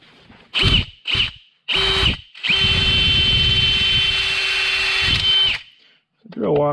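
A power drill whirs in several short bursts, then runs steadily for a few seconds with a high metallic squeal as it bites into soft metal on a Stihl MS291 chainsaw build, close by.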